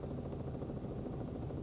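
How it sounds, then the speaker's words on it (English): Steady, muffled rotor and engine drone of a helicopter heard from inside the cabin, constant and unbroken. "being back in the helicopter"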